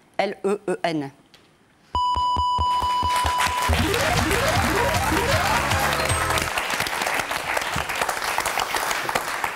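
Studio audience applause on the French word game show Motus, a broad steady wash of clapping that bursts in suddenly after a few short electronic beeps and holds loud to the end, with a voice briefly over it.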